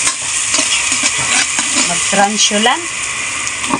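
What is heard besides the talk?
stirring food sizzling in a pan while cooking tilapia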